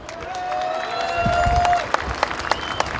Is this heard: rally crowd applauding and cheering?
yes